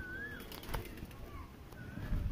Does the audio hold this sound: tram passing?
no